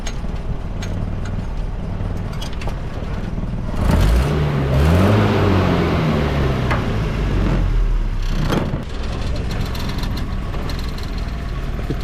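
An old Land Rover's engine runs on a test drive, a low steady rumble throughout with a rising and falling rev in the middle, close and fairly loud, with no talking.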